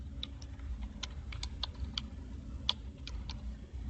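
Keys clicking on a computer keyboard as a library search is typed, a run of quick, irregular taps close by over a steady low hum.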